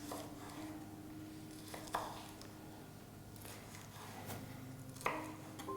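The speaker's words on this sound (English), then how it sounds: "So now we cut these into cubes." A knife chopping a red bell pepper into cubes on a board: several scattered sharp cuts over a steady background hum, fairly quiet and close.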